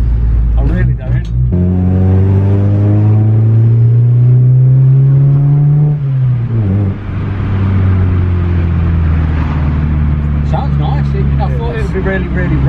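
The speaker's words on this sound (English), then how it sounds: "Really, really raspy. Like there's a little bit of rasp there, but you're never going to get rid of that with a Honda." A Honda EJ9 car engine accelerates hard, its raspy exhaust note climbing steadily in pitch before easing off, loud and close from inside the car, with people talking over it.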